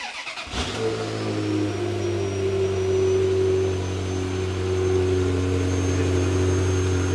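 A Ferrari engine cranks briefly, catches, then settles into a steady, smooth running hum with a slight rise in revs, close by.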